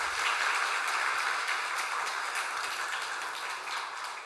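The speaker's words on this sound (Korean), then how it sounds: "목사님 인사하실 때 우리 박수로 감사의 마음 전하도록 하겠습니다" A church congregation at an afternoon worship service applauds the pastor in thanks, a steady, fairly soft wash of many hands clapping in a large room that slowly fades toward the end.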